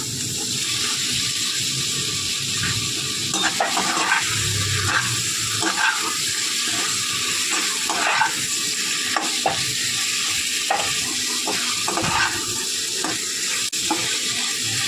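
Paneer gravy frying in a pan with pepper, garam masala and cumin powder, a steady close sizzle under repeated scraping stirs throughout, with no talking.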